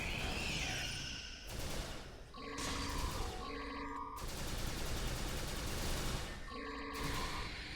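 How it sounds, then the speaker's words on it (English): Bursts of sci-fi energy-weapon gunfire in the video game Star Trek Online, a dense, steady barrage with repeated tonal zaps layered over a continuous rushing blast, fairly quiet overall. "Gunfire."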